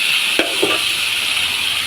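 Loofah and pork stir-fry sizzling steadily in a hot pan at home, a dense even hiss broken by two sharp scraping stirs near the start, alone with no voices.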